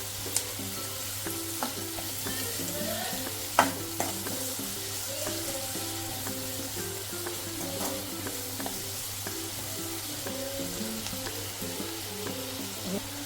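Dry fish curry stirred in a pan with salt, a low sizzle under a soft steady hum with occasional light scrapes and one sharper knock, faint and even throughout, no talking.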